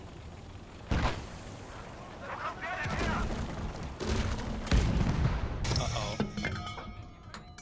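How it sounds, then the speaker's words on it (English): Autocannon fire in the World War II game Gates of Hell, a string of heavy distant booms and thumps over battlefield rumble, with a voice speaking briefly. "There's some sort of autocannon on the left."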